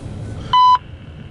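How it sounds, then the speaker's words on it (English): CSX railroad defect detector radio tone, a single brief steady beep of about a quarter second heard over faint radio hiss. "CSX equipment defect detector"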